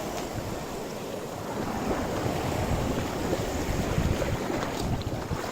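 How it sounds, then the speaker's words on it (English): A boat on open water near Seagull Island off Malvan, Maharashtra, with steady broadband wash of waves and wind buffeting the microphone, a continuous rushing roar without voices. "That's our boat."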